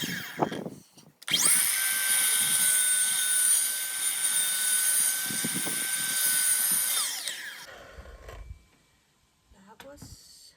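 A power saw cuts through wood, whining loudly and steadily for about six seconds after a brief start, then spinning down, with some talk around it.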